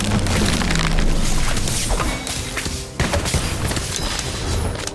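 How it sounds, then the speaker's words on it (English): Booming explosions from a bomb spell in a Harry Potter video game, loud and close, with a dense crashing roar and a sharp second blast midway. "Fantastic bomb."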